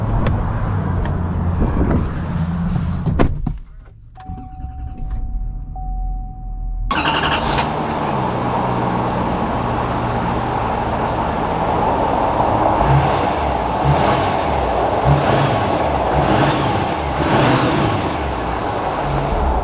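A GMC Sierra 3500 Denali Dually pickup truck driving, steady engine and road noise heard from inside the cab. A brief hush and a faint tone interrupt it before the engine drone returns and holds steady.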